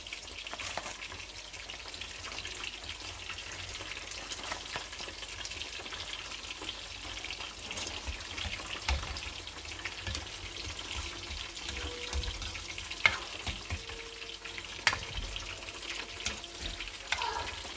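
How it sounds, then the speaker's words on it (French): A pot of chili and broth for a Congolese malangwa fish dish frying and being stirred, with a steady sizzle, soft liquid sloshing and occasional spoon knocks, close and moderately quiet, with no talking. "Ensuite, nous allons rajouter le piment. On met un peu de bouillon."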